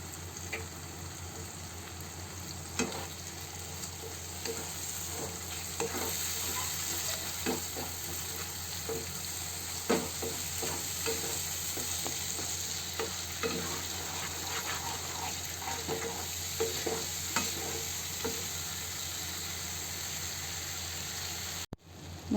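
Cashew and masala paste fries in a pan with a constant sizzle, broken by frequent scraping clicks of a spoon stirring it, close and steady with no talking.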